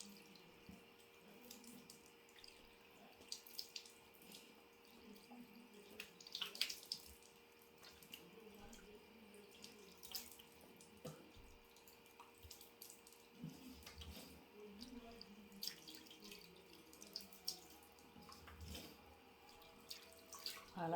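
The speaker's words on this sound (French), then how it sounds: "Donc là, je vais rincer mon visage." Water from a bathroom tap runs steadily into a sink while a face is rinsed, with soft splashing and scattered drips mixed into the continuous flow, close by and fairly quiet.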